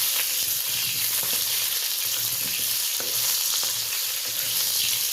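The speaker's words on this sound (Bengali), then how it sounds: "1 চামচ কালো সর্ষে ফোড়নের জন্য দিয়ে দিলাম, আর কেটে রাখা আমটা তার সঙ্গে দিয়ে দিলাম।" Black mustard seeds and chopped mango sizzle steadily in hot oil, a loud continuous frying hiss with occasional soft stirring scrapes and seed pops throughout.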